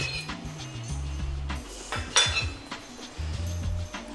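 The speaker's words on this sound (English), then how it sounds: "let's slice into it and see how it turned out" Knife and cutlery clinking against a dish while slicing into a crustless quiche of mushrooms, spinach and cheese, with soft scrapes and a sharper clink midway, close and fairly quiet over low background music.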